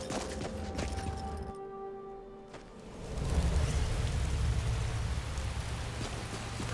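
Rain falls in a video game near Ivarstead, a steady hiss of drops that swells noticeably louder and fuller about halfway through, with no voices over it.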